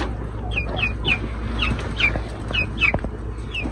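Young chicks recovering from Newcastle disease chirp in repeated high, thin peeps, roughly two or three a second, close by over a low background hum.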